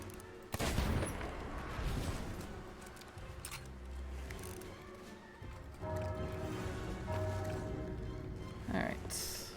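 Gunfire rings out in Sea of Thieves, a sharp shot at the start followed by scattered bursts and crashes under loud game ambience and a talking voice.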